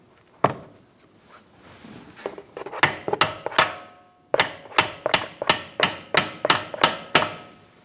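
Close metal-on-metal hammer blows strike a punch into a rear forward lower control arm bolt hole on a 2012-2018 Ford Focus, starting with a few scattered hits and then becoming a steady run of sharp, ringing strikes.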